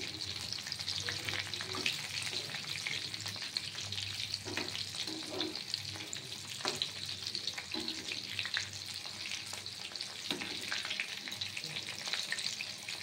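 Prawns fry golden in hot oil with a continuous, soft sizzle and crackle that holds steady throughout, with occasional faint stirring touches and no voices.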